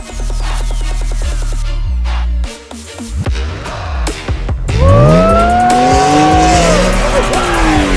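A 2023 BMW X3 M engine revs and roars loudly, pitch climbing as it accelerates hard, with tire squeal and shifting engine tones, close by.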